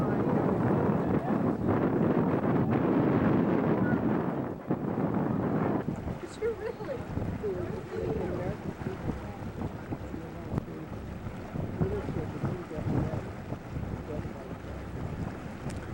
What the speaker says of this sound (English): What you hear in the background, all of this is the wind blowing.